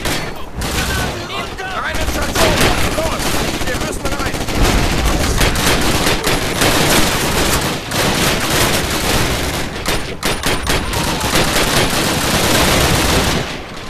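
A weapon in the video game Call of Duty: United Offensive fires rapidly and almost without pause, making a loud, dense stream of shots throughout.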